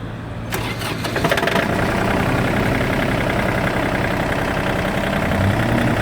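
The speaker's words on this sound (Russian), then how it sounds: "Трактор запустился без проблем." A Kubota L1-185 mini tractor engine cranks briefly, catches, and settles into a loud, steady, rumbling idle that continues without a break.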